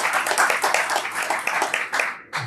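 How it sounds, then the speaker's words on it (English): A conference panel audience bursts into dense, sustained clapping that fades out near the end. "Can I get another round of applause for Toby, please?"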